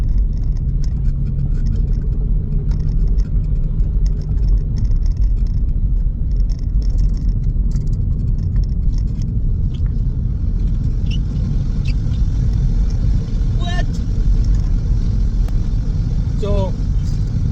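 A Mk2 Audi TT TFSI with binding brakes drives along, giving a loud, steady engine and road rumble inside the cabin with faint whirring, with brief speech near the end.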